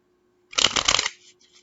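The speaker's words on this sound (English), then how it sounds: "So I'm going to do 5 shuffles." A deck of tarot cards riffle-shuffled once at close range, a quick burst of rapid flapping that ends with a few soft settling taps.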